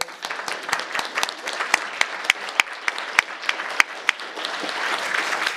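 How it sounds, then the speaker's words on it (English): An audience at a conference session claps for a group of digital storytellers, producing a dense round of applause with sharp individual claps standing out, steady throughout and swelling slightly toward the end. "If we can give our lovely digital storytellers another round of applause."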